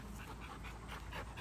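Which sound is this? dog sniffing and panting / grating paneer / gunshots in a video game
dog sniffing and panting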